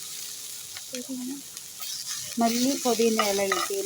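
Onion heating and softening in a pan for pasta, a soft steady sizzle with occasional stirring scrapes, partly under a voice speaking in Malayalam.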